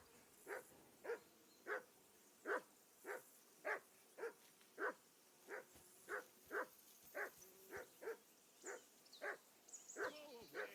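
A dog in the video game Kingdom Come Deliverance II barks in a steady series of about sixteen evenly spaced, quiet barks, ending with a higher whimpering yelp.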